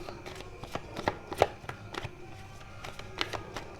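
Tarot cards shuffled and drawn: close, rapid riffling and flicking of a card deck with a few sharper slaps as cards are pulled, steady and moderately loud with no talking.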